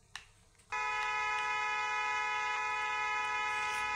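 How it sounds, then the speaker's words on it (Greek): A car horn in the Roblox game Brookhaven sounds one long, loud, steady electronic honk that starts suddenly and holds for over three seconds after a short quiet stretch. "Κάτσε να χτυπήσω κόρνα."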